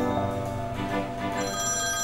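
A telephone rings indoors in a Turkish TV drama series, a steady, electronic ringtone that sounds alone and close.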